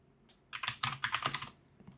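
A short burst of fast typing on a computer keyboard: a dense flurry of close, crisp key clicks lasting about a second, then silence, with no talking.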